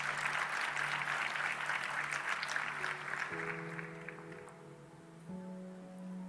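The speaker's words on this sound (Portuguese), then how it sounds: "Dê uma salva de palmas para o Senhor Jesus." Applause from a church congregation during a Sunday worship service, a dense wash of clapping that slowly thins out, with sustained keyboard or organ tones rising underneath toward the end.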